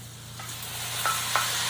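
Homemade tomato sauce with Italian sausage is poured and stirred into a hot pan, giving a steady, close sizzle with a few soft scraping stirs and no talking.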